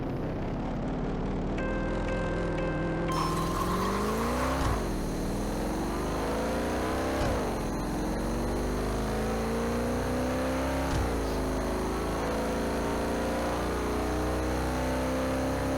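Race cars launch and accelerate hard in the Rush Racing 2 game, with engines revving up loud and close through several gear shifts over about fifteen seconds, each shift briefly dropping the pitch before it climbs again.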